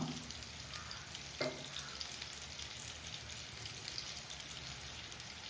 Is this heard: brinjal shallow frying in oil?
yes